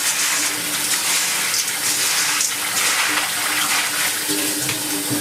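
Water pours steadily through a plant pot as Anthurium potting mix is rinsed, a loud continuous splashing gush with no break.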